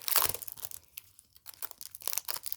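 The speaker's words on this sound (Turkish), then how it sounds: "Bantını sökelim." Crinkly tearing and peeling of tape from a package, close by, in a few short bursts with brief pauses between.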